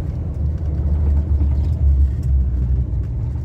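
Jeep driving along the Las Vegas Strip early in the morning, a steady close engine and road rumble that swells and eases slightly, with no talking.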